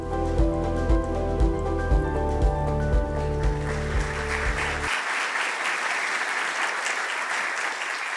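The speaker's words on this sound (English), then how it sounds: "Let's hear another round of applause" Audience applause at a White House summit countering hate-fueled violence rises as the music ends, a broad sustained wash of clapping that carries on alone for several seconds.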